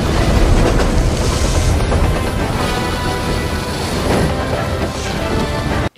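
Train in the movie Captain America: The First Avenger, a loud, dense rumble of rail noise with clanking and crashing action sounds throughout, cutting off abruptly at the end.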